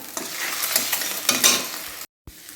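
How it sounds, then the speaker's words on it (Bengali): Two eggs fry in a pan on a gas stove with a loud, continuous sizzle and crackle close up, then cut out briefly before resuming. "গ্যাস জেলে তো ডিমটা ভাজতে বসিয়ে দিয়েছি"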